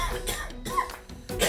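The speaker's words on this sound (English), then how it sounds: "A cough is a reflex that humans and many animals have." A person coughs several times in short, sharp bursts with a bit of throat clearing, close and distinct, with brief pauses between the coughs.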